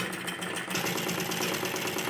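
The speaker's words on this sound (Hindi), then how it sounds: "अब मुझे एक और सिलाई लगा देनी है इसमें डबल करके।" A sewing machine runs a second line of stitching along a kurti seam, a steady mechanical whir with rapid rhythmic ticking that picks up slightly partway through.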